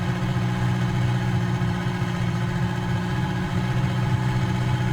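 A Bell 47-G2 helicopter engine in Microsoft Flight Simulator, loud and steady with a low droning hum and constant vibration, running evenly without talk.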